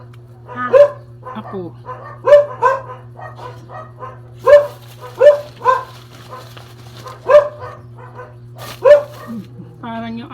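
A small dog barks repeatedly at close range, sharp yaps roughly every second or so in an uneven rhythm, over a constant low electrical hum, with a person speaking briefly between barks.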